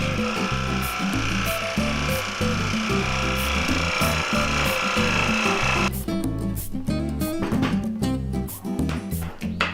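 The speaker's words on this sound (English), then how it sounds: "I'm then going to cut it with a jigsaw" A jigsaw buzzes steadily with a fast reciprocating rattle as it cuts through wood, the tone shifting partway through the cut.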